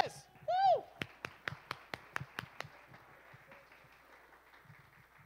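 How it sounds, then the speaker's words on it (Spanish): Brief burst of claps and taps from a church congregation welcoming a guest preacher, about nine sharp, evenly spaced strikes, preceded by a short tonal sweep and then fading into quiet room noise. "les pido que recibamos con un fuerte aplauso al hermano Eduardo López"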